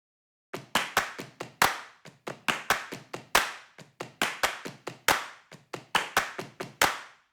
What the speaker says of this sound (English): we layer a nice minimal body percussion loop consisting of thigh slaps and hand claps